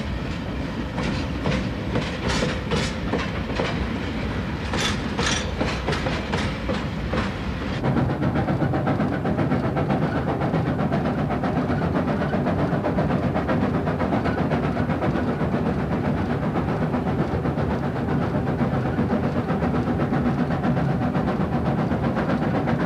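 A special expedition train made up of freight cars, passenger coaches and a dining car travels by rail through the Tian Shan mountains, a loud continuous rumble with rhythmic clickety-clack wheel beats early on, then a steadier roar.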